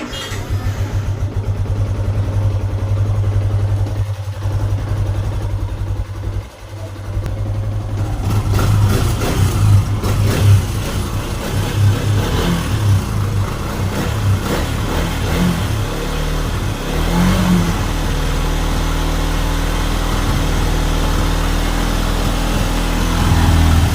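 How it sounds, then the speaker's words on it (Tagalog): A Suzuki Raider/Sniper 150 motorcycle engine idles steadily with a low, even hum after an oil change, following a quieter start with a few brief knocks; no talking. "papa-underin ko muna yung aking motor sa loob ng 5 minuto para kumalat yung langis sa loob ng makina niya"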